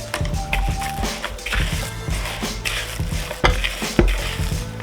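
A spoon stirs a breadcrumb mixture of seasoned and unseasoned breadcrumbs, salt and pepper in a bowl, making close, loud scraping and clinking strokes in an uneven rhythm, with sharper knocks against the bowl toward the end.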